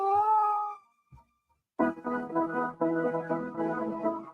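Big Mama the cat gives a drawn-out meow, then after a short pause a longer, louder run of insistent meows, close and clear with no talk over them.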